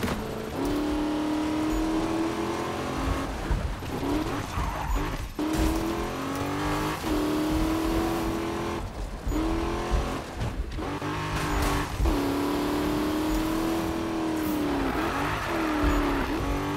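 A racing car engine revs loudly and continuously in the Need for Speed (2015) driving game, its pitch rising and falling through repeated gear shifts, with tire squeal mixed in and no talk.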